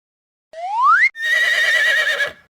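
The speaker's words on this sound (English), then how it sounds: "horse" An animal toy plays a horse sound: a rising electronic boing-like sweep, then a loud wavering synthetic whinny lasting about a second, alone and close.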